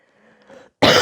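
One sharp, loud cough from a person with the flu breaks out abruptly after a brief stretch of faint, quiet background sound.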